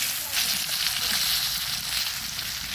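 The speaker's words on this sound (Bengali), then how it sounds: "মাছগুলো সুন্দর করে একদম লাল লাল করে ভাজা নিচ্ছি" Pieces of pangas fish fry in a pan of hot oil, making a steady, close crackling sizzle that holds level for nearly three seconds. No one speaks.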